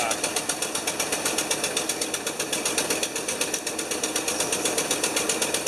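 The engine of a 1975 Lincoln Continental idles with a misfire, a close, rapid mechanical ticking and uneven pulsing that repeats steadily throughout.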